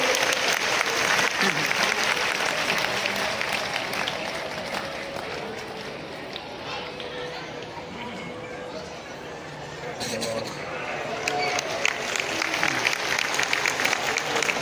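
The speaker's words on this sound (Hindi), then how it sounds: "इनके लिए तो आप डबल तालियां बजाइए" Long round of audience clapping at a Jaya Kishori Bhagwat katha in Bilaspur, loud at first, easing slightly in the middle, then swelling again, with a large crowd clapping steadily throughout.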